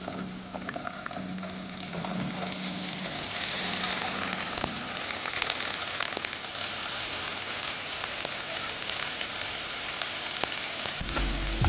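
Ginger garlic paste and onions sautéing in a pan for mutton gosht, giving a steady, close crackling sizzle throughout with scattered small pops and no speech.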